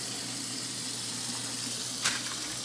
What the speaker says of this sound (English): Turn on that hot water.